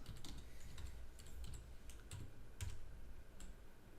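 Steady keyboard typing with irregular clicks and a few sharper key strikes over a constant low hum.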